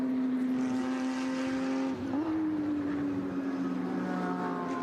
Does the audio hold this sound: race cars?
yes